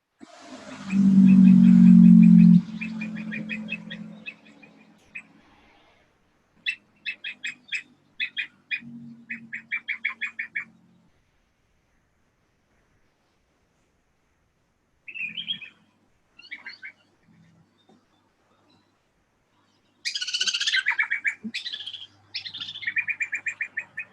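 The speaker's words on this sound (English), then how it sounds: "you got so many lovely bird sounds coming from your side" Birds chirp and trill in bursts, some calls near and bright, others softer, with a loud low squawk or hum at the start and quiet pauses between.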